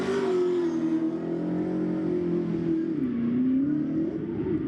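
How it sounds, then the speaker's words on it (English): A drift car on a pro drift series qualifying course is left-foot-braked into a corner, its engine droning loud and steady at a high pitch, dipping briefly and recovering, with no talk over it. "Left foot brake entry here for Carlton McDonald. Keeping it at a nice steady angle here"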